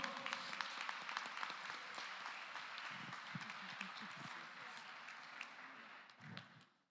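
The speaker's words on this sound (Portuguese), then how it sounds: "Você pode dar um aplauso ao Senhor?" Church congregation applauding at a Brazilian worship conference, a dense wash of clapping with crowd noise that fills the hall and fades out near the end.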